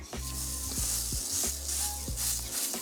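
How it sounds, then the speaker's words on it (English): Meat patty searing on the hot side of a barbecue in the rain, a continuous close sizzle with a few light knocks and taps, no talking. "we'll go on to our hot side with that to get a nice sear on the back of it"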